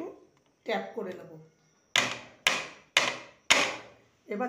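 An oil-brushed cake tin filled with biscuit batter is rapped on a surface: four or five sharp, evenly spaced knocks ring out close by, after a brief stretch of talk at the start.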